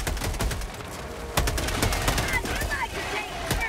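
Rapid automatic gunfire in the Helldivers 2 video game, dense bursts of sharp cracks with a few heavier shots, loud and close amid battle noise.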